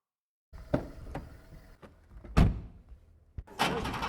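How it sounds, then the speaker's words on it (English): A car door thuds shut and an engine stirs in a foley sequence, several separate knocks and mechanical clunks with a loud slam near the middle and a brighter burst of noise at the end, no voices. "Great Foley with the engine and car door."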